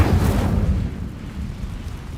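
The Incendio fire spell in the video game Hogwarts Legacy is cast with a loud, deep burst that rumbles and then fades into a lingering low roar.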